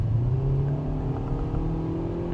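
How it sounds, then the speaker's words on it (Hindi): A Hyundai Verna facelift with a CVT gearbox, engine revving as the pedal is pressed hard, produces a steady, loud droning hum with rising engine tones that holds through the whole stretch without talk. "मैं जैसे ही हार्ड एक्सेलरेशन पेडल प्रेस करूँगा, CVT का टिपिकल बिहेवियर है कि इंजन RPM ऊपर चले जाते हैं"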